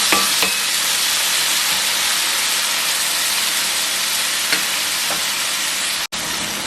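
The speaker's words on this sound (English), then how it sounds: "Let us cook this tomato like nicely, maybe like 3 to 4 minutes." Tomato cooking in a pan, a steady bright sizzle of frying with occasional light scrapes and taps of stirring, close and continuous, with a brief cut near the end.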